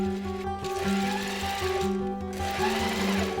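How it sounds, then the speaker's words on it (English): A sewing machine stitching fabric close to the edge while making a blouse, a steady mechanical whirring hum with rhythmic needle chatter, running continuously and close up. "Just gonna sew this here together relatively close to the edge here."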